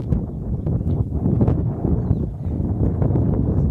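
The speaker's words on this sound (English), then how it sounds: "The wind speed is very high here" Strong wind at a tent campsite buffets the microphone with a constant, heavy low roar and gusty rumble that stays loud throughout.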